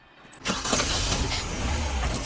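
A car engine cranks and catches after a brief near-silence, settling into a steady close idle that runs on alone to the end.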